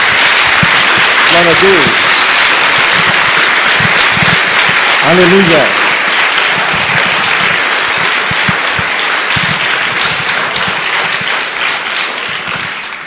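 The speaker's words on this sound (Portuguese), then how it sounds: "Dê uma salva de palmas a Jesus." A church congregation applauds steadily throughout, the clapping dense and sustained while voices call out praise over it.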